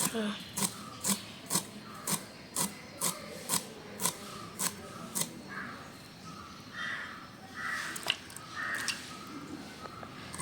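Raw plantain being chopped into pieces with a knife, about a dozen evenly spaced crisp cuts against a board, close and clear, followed by softer handling sounds and low talk.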